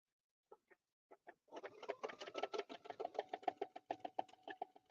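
A sewing machine stitching a circle in fabric runs in a rapid, rhythmic stitching chatter. It starts with a few isolated ticks and settles into a steady close, fairly quiet whir, with no speech.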